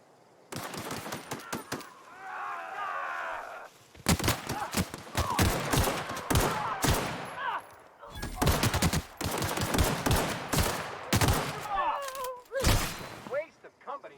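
Bursts of rapid automatic gunfire and single shots ring out against marauders in The Outer Worlds, coming in loud clustered volleys with short pauses between them, while voices talk and grunt in between.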